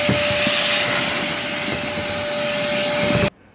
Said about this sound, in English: let's sweep this area and vacuum it all up